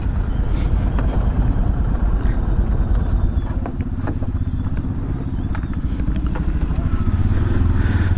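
A motorcycle engine runs loud and close with a constant low rumble and some clattering while parking on a ride to Sakleshpura.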